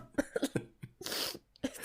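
A sneeze during a casual gaming podcast session, a short burst of sharp nasal bursts and a breathy hiss, with other brief throaty sounds and laughter around it, close and fairly loud.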